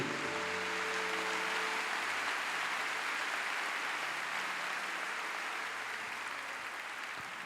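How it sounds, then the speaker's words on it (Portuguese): Church congregation clapping for Jesus during a sermon, a steady dense wash of applause holding at even loudness throughout, with a faint low hum underneath. "Aplauda Jesus forte por isso."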